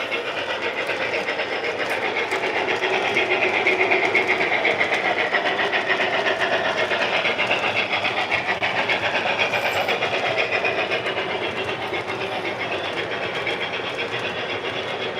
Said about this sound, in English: And tonight we're running Very Cherry from JT's Mega Steam.